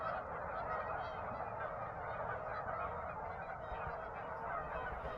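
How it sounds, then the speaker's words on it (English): A flock of geese honking continuously in a dense, overlapping chorus, steady and moderately distant, with no talking. "Man, those geese are squawking now."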